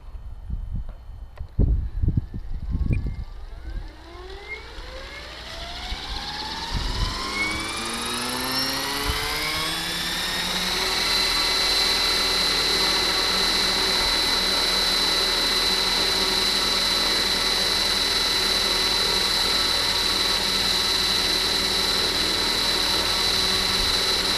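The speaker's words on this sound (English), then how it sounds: "turn off the throttle hold and let it spin up. And I'm going to just let it spin and get to its head speed" An RC helicopter powered through a Hobbywing 130HV V4 ESC spins its rotor up from a few clicks into a rising whine that settles into a steady, loud, close drone at head speed.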